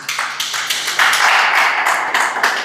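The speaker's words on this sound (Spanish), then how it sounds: "Dale fuerte palmas al Señor" Congregation in a church service clapping hands together, a dense, steady patter of many palms filling the room, loud and continuous throughout with bursts of stronger claps.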